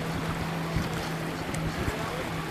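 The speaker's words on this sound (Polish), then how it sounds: "Za duży wiatr." Steady, loud wind rushes across the microphone, with a low hum and gusty buffeting throughout.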